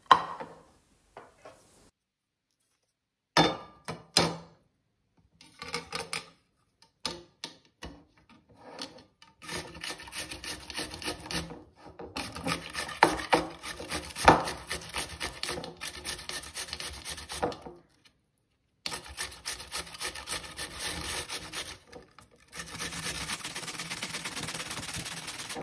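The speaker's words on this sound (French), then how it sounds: "je vais venir le râper, cette fois-ci à l'aide d'une râpe manuelle" A courgette is rasped on a manual grater in short, dry scraping strokes. Sparse at first, the strokes become steady, rapid bursts with brief pauses, close and alone.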